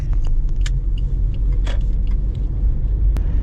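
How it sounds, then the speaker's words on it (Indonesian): Steady low road rumble and tyre noise inside the cabin of a 2014 Suzuki Ertiga GX fitted with thick-tread tyres, a constant loud drone with faint clicks and rattles on top and no talking. "karena profil bannya cukup tebal, jadi ada kebisingan bannya yang masuk ke kabin kayak gitu."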